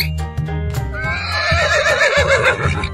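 A horse neighs in a long, wavering whinny over bouncy background music, with a few clopping beats at the start.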